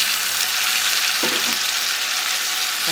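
Loud, close, continuous sizzle as tomatoes hit hot oil with a mustard seed, urad dal, onion and garlic tempering, with a faint stir or two underneath.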